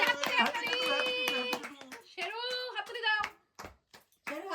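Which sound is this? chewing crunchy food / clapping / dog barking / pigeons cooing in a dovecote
clapping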